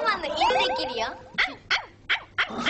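A human voice imitates the dog from the Anpanman cartoon, first with whimpering, whining tones, then with four short, sharp barks spaced evenly.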